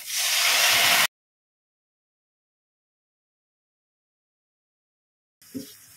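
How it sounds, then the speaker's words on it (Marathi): Green Thai curry paste hits hot oil in a pan and sizzles loudly for about a second, then silence, followed by a fainter hiss returning near the end. "त्या तेलामध्ये आपण ही जी आपली पेस्ट आहे ती परतून घ्यायची आहे"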